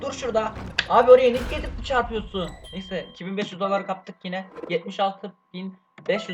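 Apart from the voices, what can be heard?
No everyday noise stands out behind the speech.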